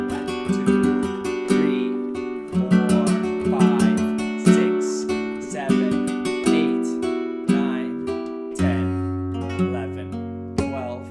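Flamenco guitar strummed in a soleares rhythm, with bright rasgueado strokes and accented chords falling in a steady compás, played close and alone without any talking.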